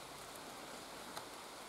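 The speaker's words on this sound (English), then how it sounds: "Here comes the rain." Rain falls in woods as a steady, even hiss of drops that fills the whole moment at a moderate level, with no voices and one faint brief tap partway through.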